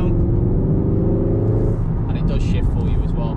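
A white 2018 VW Golf R estate pulls hard on a test drive, its engine droning with a rising tone inside the cabin while a person talks over it throughout.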